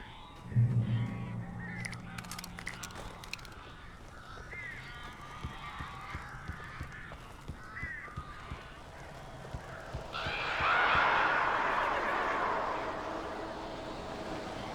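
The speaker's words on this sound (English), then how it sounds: "These birds are weird." Crows cawing and fluttering indoors in Alan Wake Remastered, harsh calls scattered over a quiet scene, with a louder rush of wings and cries building near the end.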